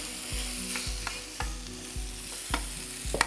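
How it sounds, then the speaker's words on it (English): Bell pepper and carrots sizzle in a hot pan with vegetable oil while being stir-fried, a steady close frying hiss broken by regular scraping and stirring clunks of the utensil. "You can add these really in any order because at this point we're just stir frying."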